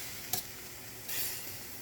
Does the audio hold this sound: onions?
yes